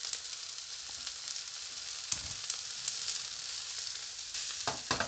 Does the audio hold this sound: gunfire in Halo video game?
no